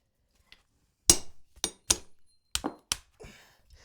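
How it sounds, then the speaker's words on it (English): A hammer strikes a punch through hot iron sitting on a small countersunk bolster during forging of a colonial nail header, giving about six sharp metallic clinks in an irregular rhythm, close and fairly loud, with no talk. "I think we should be ready to drive the punch through."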